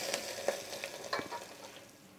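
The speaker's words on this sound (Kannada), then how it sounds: "ಒಂದು ಅರ್ಧ ಹೆಚ್ಚಿಟ್ಕೊಂಡಿರೋ ಈರುಳ್ಳಿ ಹಾಕಿ ಫ್ರೈ ಮಾಡಿ" Chopped onion with mustard seeds frying in a little oil for a tempering, a faint soft sizzle with light stirring scrapes and small pops, close and brief.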